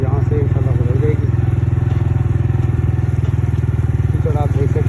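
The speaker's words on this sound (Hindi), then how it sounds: "ज़्यादातर बाइक चला रहा हूँ, स्लिप होने का बहुत ज़्यादा खतरा रह जाता है।" A motorbike engine chugs steadily in a fast, even rhythm while riding a muddy, rain-soaked road near Qayumabad Interchange, loud and close, with faint voices and clatter over it.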